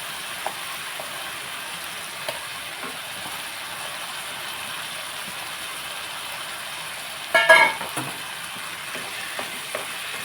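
Spinach and chana dal curry being stirred in a pan, with a soft, steady sizzle throughout and a brief burst of louder scraping and clatter near the end, without any talking.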